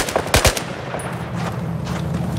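Bursts of automatic machine gun fire in the combat video game Battlefield 4, a few sharp loud shots up front followed by steady rattling battle noise.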